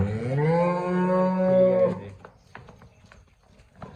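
A single buffalo or cow at a dairy farm in Bhoma village, Amritsar, lets out one loud, close, drawn-out moo lasting about two seconds, followed by quieter shuffling and knocking sounds.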